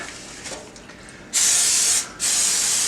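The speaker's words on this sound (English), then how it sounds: "cooking spray on it, because I don't want the pan to become a bread loaf." Two bursts of cooking spray hissing onto a pan close up, a longer spray followed by a brief pause and a second spray, loud and steady.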